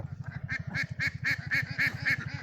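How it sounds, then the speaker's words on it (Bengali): Ducks on a river quack in a rapid, steady run of close, loud calls, one after another without pause, with no talk over them. "এই যে নদী থেকে সুন্দর হাঁস দেখা যাচ্ছে।"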